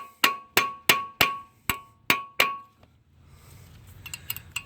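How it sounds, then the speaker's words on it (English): A hammer strikes a Phillips bit hard seven times in a steady rhythm while knocking off a part during teardown of a 2014 Kia Soul 2.0L GDI engine. Each blow is a loud, ringing metallic clang, followed by low shop noise. "I'm going to take this hammer. We're going to hit this pretty hard here."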